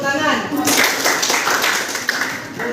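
A classroom of students claps hands together, a dense burst of applause-like clapping filling most of the moment, with voices mixed in.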